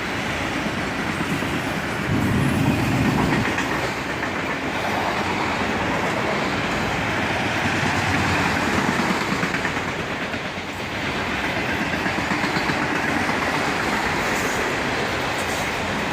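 Freight train passing at dusk, a continuous loud rumble with rhythmic wheel clatter over rail joints throughout, swelling slightly and then settling.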